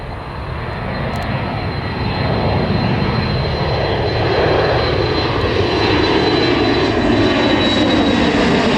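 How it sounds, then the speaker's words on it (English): Boeing 737 MAX jet taking off out of Miami at sunset, a loud continuous engine roar that swells steadily as the aircraft climbs, with no voices over it. "Boeing 737 MAX taking off out of Miami on its way to Chicago, blasting off into the sunset."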